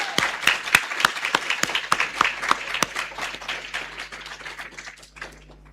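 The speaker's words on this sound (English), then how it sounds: "could we please take a moment and give a round of applause for the students here?" A graduation ceremony audience applauds students at a summer coding camp, starting with sharp, close individual claps that blend into a steady crowd clapping and gradually fade toward the end.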